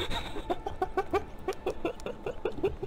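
A person's voice imitates an owl call in quick, evenly spaced hooting pulses, about a dozen in a row, close and fairly soft.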